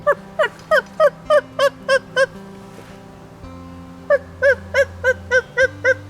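A man imitates a turkey gobble using only his vocal cords, with no mouth call. Two quick bursts of rapid, rattling gobbles are split by a short gap, over low background hum.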